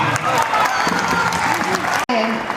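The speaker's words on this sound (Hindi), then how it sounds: "जोरदार तालियां बजा।" Applause from an audience at a college fresher's party, loud continuous clapping mixed with voices and what sounds like amplified speech or music, cut by a brief dropout near the end before the crowd sound resumes.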